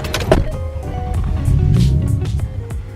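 A modified car with a carbon hood and CSF parts drives and accelerates, a low engine rumble swelling midway with some clicks and shifting noises inside the cabin.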